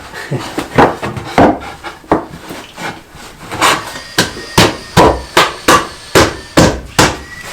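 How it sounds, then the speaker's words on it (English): Repeated hammer blows fitting redwood boards together for a garden bed, a steady series of sharp knocks on wood that grow louder and more regular toward the end, with no talking. "Might require a little hammering"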